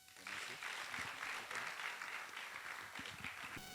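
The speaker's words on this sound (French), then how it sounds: "Applaudissements." Steady applause from a crowd, a dense wash of clapping that holds at an even level for a few seconds.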